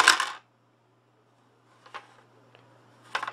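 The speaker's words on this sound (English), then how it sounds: "she's going to roll 3 dice again" Three dice clatter as they are rolled during a Zombicide board game, with a short rattle at the start, then a pause, then a few light clicks and a final tumble, close and quiet over a faint steady hum.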